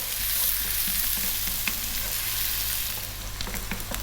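Onions frying in a hot pan on fairly lively heat, a loud continuous sizzle with crackling pops throughout.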